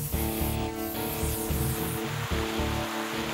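Cartoon waterfall water rushes in a steady, loud, broadband hiss, with tonal music playing underneath the whole time.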